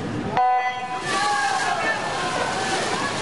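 Water sloshes and splashes steadily as a double-arm amputee swimmer moves down the length of a pool, with a sharp onset followed by continuous churning water noise.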